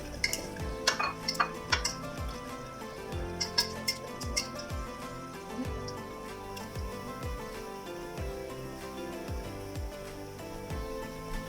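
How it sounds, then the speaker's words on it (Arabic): Spoon scraping and clinking against a pot while ingredients are stirred together for a Tunisian Ramadan dish, a repeated rhythm of soft knocks and scrapes with a few sharper metallic taps, close and fairly quiet. "نحرك المكونات الكل مع بعضها."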